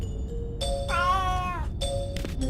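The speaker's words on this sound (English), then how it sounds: "Frederick, look, it's a cat." A cat meowing in the adventure video game A Vampyre Story: a few short, close, tonal meows, one longer drawn-out wail in the middle, over a quiet background.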